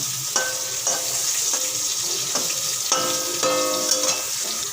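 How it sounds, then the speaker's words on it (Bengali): Sliced pointed gourd (potol) frying in oil in a pan, a steady bright sizzle broken by a series of scraping stirs that come at an even rhythm every half second or so. "পটলগুলো ভাজতে একটু টাইম লাগে"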